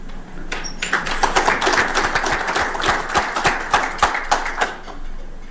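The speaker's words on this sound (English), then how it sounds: "I want to applaud in a very, very special way" An audience at a live anniversary celebration claps in a steady, dense burst of applause with sharp individual claps standing out, loud and close, lasting several seconds.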